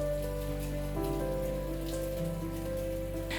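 Sudden rain falls steadily outside a villa, a dense even patter on surfaces that holds at constant level throughout, with a soft sustained tone beneath it and no talking.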